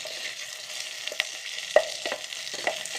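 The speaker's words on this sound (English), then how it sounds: "Cook the onion till it looks light brown or golden color." Onion frying in an electric kettle gives a soft, steady sizzle with a few light stirring taps, quiet and close.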